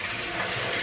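A toilet flushes in a public washroom, a brief, steady rush of water heard up close, alone and without voices.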